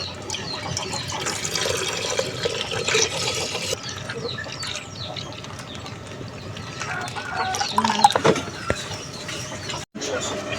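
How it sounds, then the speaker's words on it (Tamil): Milk is poured into a cooking pot for rasgulla, a continuous liquid splash close by, with voices and a chicken clucking faintly in the background. "பாலை ஊத்திடலாம்."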